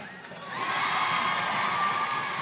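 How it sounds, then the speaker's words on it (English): Barbados supporters at a netball qualifier against St Maarten cheer a goal, a crowd roar swelling up and holding loud and sustained with high shouts. "Barbados cheering every extra goal after the 100"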